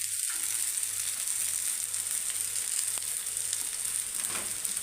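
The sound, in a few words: stirring spices into frying okra curry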